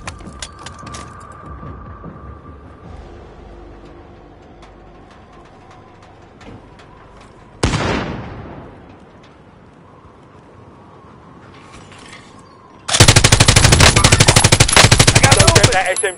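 Submachine gun fire in a video game chatters in rapid bursts: a sharp loud volley midway, then a long sustained stream of rapid shots at the end, with quieter mechanical sounds and occasional talk between.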